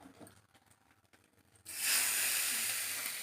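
Hot oil tempered with mustard seeds and a pinch of asafoetida is poured into curry leaf chutney, setting off a sudden loud, sustained sizzling hiss after a quiet start.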